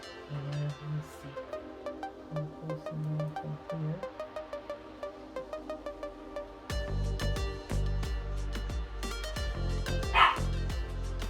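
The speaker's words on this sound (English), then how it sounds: "that's my little monster of a dog barking in the background" A small dog barks repeatedly in the background of a room, sharp yips in uneven bursts throughout, joined by louder thumps and clatter in the second half.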